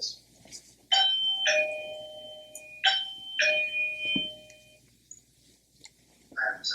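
Eufy video doorbell ringing, several bright two-tone electronic chimes spaced a few seconds apart, close and clear in a quiet room, followed by a brief voice speaking.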